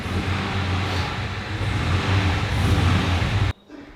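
A Land Rover Defender 90 fitted with a 5.3 LT engine revs loudly and steadily up close with a deep, throaty note for about three and a half seconds, then cuts off abruptly.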